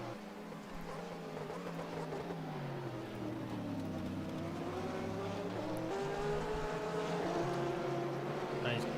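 A Simco Porsche GT3 race car in a racing video game at Catalunya, its engine droning in a steady rising and falling whine with shifting pitch as it chases a rival, continuous and fairly even in level.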